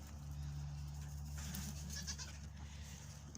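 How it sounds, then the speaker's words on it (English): A pregnant, neglected and underfed goat gives faint, brief bleats midway through, heard at a distance over a steady low hum. "Poor neglected goat."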